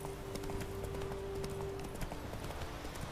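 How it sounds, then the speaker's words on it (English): Horse hooves clip-clopping at a steady trot in The Witcher 3, a rapid even rhythm of hoof beats over a faint in-game hum, close and continuous. "Use my horse to get there, if I can."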